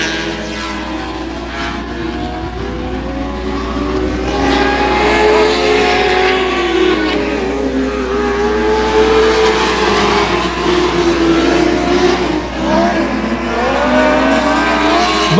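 Race cars circle a 281 Speedway oval, engines roaring steadily near and loud with rising and falling pitch as they power down the backstretch, no talk over them.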